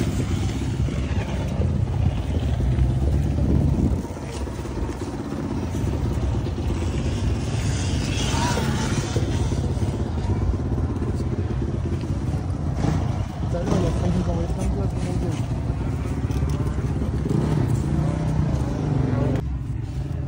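A Honda CR250 two-stroke motorcycle engine, tuned with a new idle jet, runs steadily for about twenty seconds, a continuous loud rumble with slight fluctuations and wind noise, under a man's speech.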